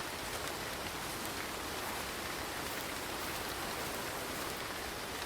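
Steady rain pours in the survival game Ember's Verge, a dense, even hiss of drops on surfaces with no letup, filling the whole stretch at moderate level with no voices.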